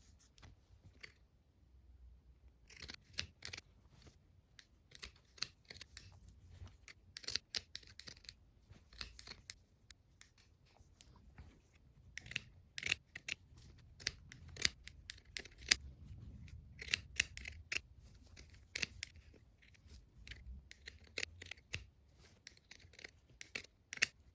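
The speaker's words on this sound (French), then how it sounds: "Vous allez cranter tout autour de chacune des étoiles à l'aide de vos ciseaux cranteurs." Steady snipping of pinking shears through fabric, many crisp cuts in an irregular rhythm, close and fairly quiet with brief pauses.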